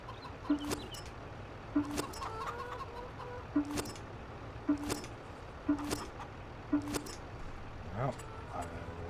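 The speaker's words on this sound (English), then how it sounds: "I've just noticed that the chickens are not exactly in their coop" Chickens loose outside their coop on a European countryside farm give short, clucking calls at fairly regular intervals, moderately close, over a low background hum.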